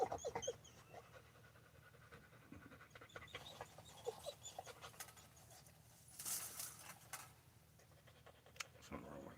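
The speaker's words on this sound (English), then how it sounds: "Something wrong with that dog." A dog pants quickly and steadily nearby with faint whimpers and scratchy movement, fairly quiet under background noise and occasional talk.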